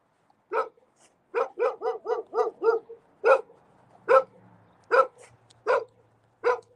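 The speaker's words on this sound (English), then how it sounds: "The dog's coming at me." A dog barks repeatedly at a door-to-door house buyer knocking in a residential neighborhood: about a dozen sharp, close barks, first in a quick burst, then spaced out, with no talk.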